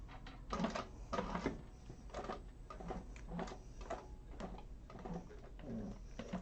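A sewing machine stitches a handbag in short, quiet bursts, pausing between runs as the needle stops and pivots.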